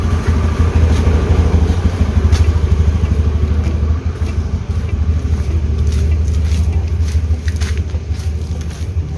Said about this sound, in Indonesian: Itu masih nyala ya mesinnya